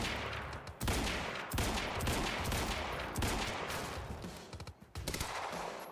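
Gunfire in the shooter Quantum Break rattles out in loud, rapid bursts, near and dense, with brief pauses between volleys and a last stuttering string of shots.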